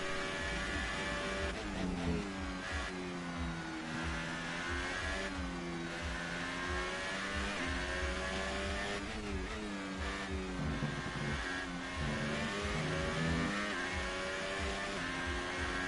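A Formula 1 car in the F1 2018 video game at Spa, its high-pitched engine screaming and revving continuously, with pitch rising through the gears and dropping on upshifts, loud and steady with no talking.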